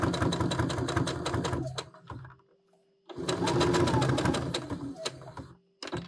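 A sewing machine stitches a seam on a gusset in two rapid motor-driven bursts separated by a short pause, with a final brief whir at the end; close and clear, no talk.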